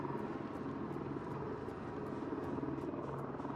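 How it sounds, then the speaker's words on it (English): In the zombie survival game Project Zomboid, with modded helicopter events, a helicopter churns steadily and fairly close, its rotor chopping faintly and evenly throughout with no talking. "it's called the expanded helicopter events."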